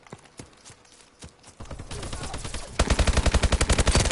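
Gunfire in a multiplayer shooter game with light machine guns, scattered single shots building into dense rapid automatic bursts that grow louder and steadier toward the end.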